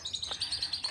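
Parrots chirp in a park aviary, with quick high tweets that repeat in a steady run and sound close and clear, with no talk over them.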